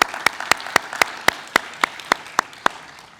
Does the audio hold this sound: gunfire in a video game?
no